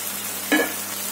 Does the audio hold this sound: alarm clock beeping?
no